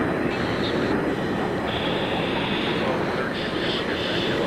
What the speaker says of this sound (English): You got another fighter coming onto the runway now.